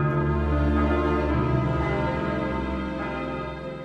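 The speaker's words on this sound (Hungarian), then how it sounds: "Értük gondolt a lélek harang." A memorial soul bell tolls at a commemoration for fallen soldiers, its deep ringing strike sustaining and slowly fading over several seconds with no voices.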